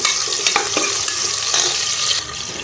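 Chopped vegetables frying in a pan with cloves and pepper, a loud, close, continuous sizzle broken by a few stirring scrapes, with no talking.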